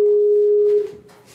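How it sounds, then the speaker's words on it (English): A steady telephone dial tone holds for most of a second while someone dials into a lecture call, then cuts off and gives way to faint room noise. "Watch as I dial in again."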